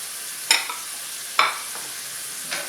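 A smash burger patty sizzles on a hot griddle, a steady faint hiss punctuated by three brief louder bursts of spatter or scraping at irregular intervals.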